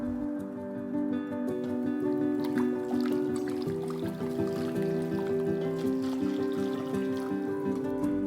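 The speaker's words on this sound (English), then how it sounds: "Pour the broth into the bowl." Hot broth pours steadily into a ramen bowl of vegan noodles, a continuous liquid trickle and splash lasting several seconds under background music.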